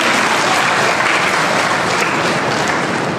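A crowd claps in a dense, steady round of applause that carries on throughout.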